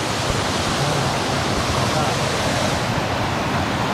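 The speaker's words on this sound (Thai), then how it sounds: "เป็นน้ำตกเล็กๆ แต่ก็โอเคนะ" Steady rushing water from a small waterfall in a Thai national park, a continuous broadband splash with no breaks, fairly loud and close.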